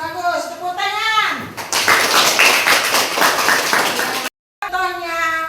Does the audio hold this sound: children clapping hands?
yes